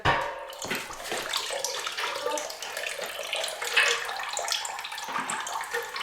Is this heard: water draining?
yes